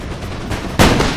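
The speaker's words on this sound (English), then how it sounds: "There's so much gunfire happening." Infantry muskets and horseback dragoons fire in a video game battle between France and Austria and a Spanish-Dutch alliance, with dense overlapping shots and one loud close volley near the end.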